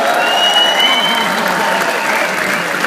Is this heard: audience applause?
yes